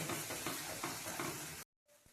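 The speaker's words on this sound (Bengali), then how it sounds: "খুব ভালো করে কষিয়ে নিতে হবে" Tomato masala for a coriander rohu fish curry is sautéed in a pan, a loud close sizzle with stirring for under two seconds, then a sudden cut to near quiet with a faint clink.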